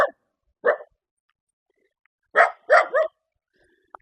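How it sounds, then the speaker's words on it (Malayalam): Several loud, close dog barks ring out in an otherwise quiet rural outdoor setting: a single bark, a pause, then a quick cluster of three barks. "അവയുടെ കൊര അതിഭയങ്കരമായതുകൊണ്ട് ഞാൻ തിരിച്ചു പോവുകയാണ്"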